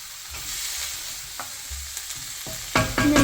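Egg hakka noodles hiss and crackle in a hot pan, with a few soft scrapes and taps as they are mixed, ending in a louder burst of sizzling and clatter from stirring.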